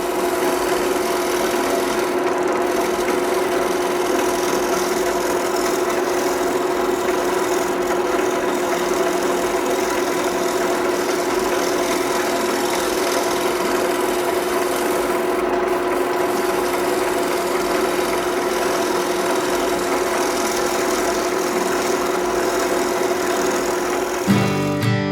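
Steady droning hum of a wood lathe spinning a spalted magnolia bowl while a round nose scraper takes very light finishing cuts to clean end grain tear out, continuous and close with no talking.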